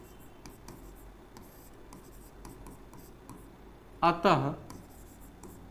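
Chalk or marker scratching on a board during a maths lesson, a brief burst of writing strokes near the end, heard close over a quiet room.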